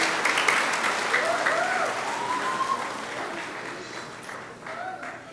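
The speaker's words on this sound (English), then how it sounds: "Let's give Miss McGinnis and her 5th grade class a big round of applause." Audience applause at a fifth grade graduation ceremony, with steady clapping from a crowd that holds throughout and eases slightly near the end, faint voices mixed in.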